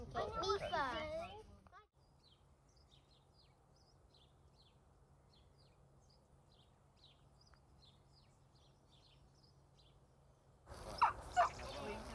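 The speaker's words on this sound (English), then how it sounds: "The chickens are awake behind me, so you might hear them crowing and clucking around." Chickens clucking and calling nearby in a summer cottage garden at the start and end, with faint scattered chirps and a low steady hum in the quieter stretch between.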